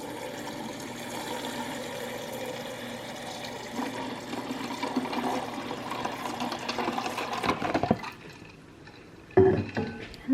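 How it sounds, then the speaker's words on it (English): Water running into a container and filling it about halfway at home, a soft steady rushing hiss that stops near the end, followed by a brief quiet clink. "And then I fill it halfway with water."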